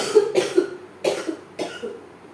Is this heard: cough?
yes